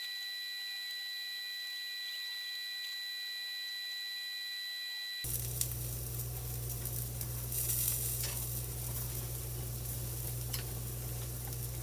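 Bean burger patties fry in a pan, starting as a faint high tone that gives way abruptly to a steady sizzle with a low hum, plus occasional crackles and stirring sounds.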